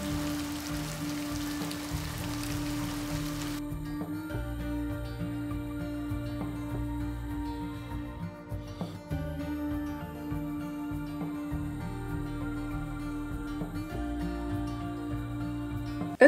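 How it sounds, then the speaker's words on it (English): Steady rain patters outside, heard through a window just opened in a sewing room, a soft, even hiss of drops that continues throughout, with a faint hum underneath. "It just popped open the window so you can hear the rain."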